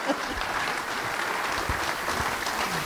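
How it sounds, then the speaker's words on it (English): A seated audience gives Michael another round of clapping, a brief, steady patter of many hands lasting a few seconds with no voices over it. "let's give Michael another round of applause"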